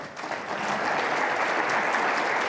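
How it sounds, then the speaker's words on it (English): An audience at an industry panel discussion gives the finalists a round of applause, a full, continuous roar of clapping that swells quickly after a brief start and holds steady. "Please give them a round of applause."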